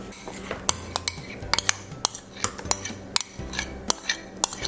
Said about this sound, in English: get your masher, and mash it up. Mash it up really good.